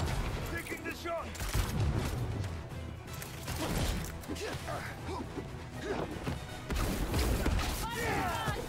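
Gunfire and crashing impacts in Marvel's Spider-Man 2, scattered shots and thwacks under a busy, loud action mix with voices speaking.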